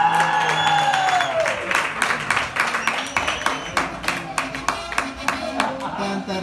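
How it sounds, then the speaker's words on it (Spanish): An audience claps and cheers for a father being introduced at a Father's Day event, rhythmic rapid clapping with a tonal sound fading at the start. "Denle un fuerte aplauso."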